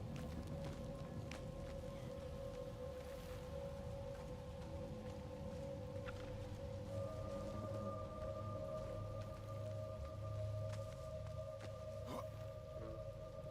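Steady rain falling in Diablo 4, a soft continuous patter at low level that runs unbroken throughout, with faint tonal ambience layered underneath.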